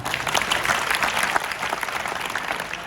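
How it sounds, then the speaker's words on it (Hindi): An audience at an institution's address claps together for a boy, a dense, even wash of applause that holds steady at fairly close range for a few seconds. "उस लड़के के लिए ताली बजा दीजिए।"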